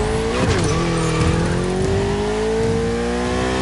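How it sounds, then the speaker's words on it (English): A Ferrari 488 engine roars at high speed in The Crew Motorfest racing game, holding a loud, steady sustained drone with a brief pitch dip and tire squeal early on. "Ferrari 488."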